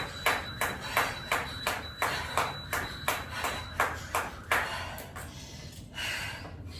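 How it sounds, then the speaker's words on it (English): A steady series of sharp, evenly spaced beeps from a workout timer, repeating about twice a second for several seconds before fading out. "Once the timer starts beeping, time is up, and you can stop."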